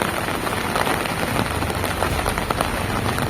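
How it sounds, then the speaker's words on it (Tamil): Heavy rain pours down in a steady, dense roar of drops striking surfaces, loud and unbroken throughout. "திருப்பனந்தாள் உள்ளிட்ட பகுதிகளில் பரவலாக கனமழை பெய்தது"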